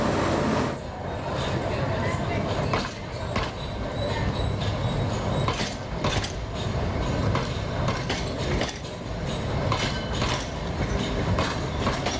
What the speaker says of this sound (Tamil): மேட்டுப்பாளையத்திலிருந்து உதகைக்கு வழக்கம் போல் மலை ரயில் புறப்பட்டு சென்றது